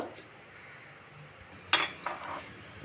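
Hot milk is poured from a pot into a bowl, quiet at first, then a sharp metallic clink and a short scraping clatter of utensils near the end.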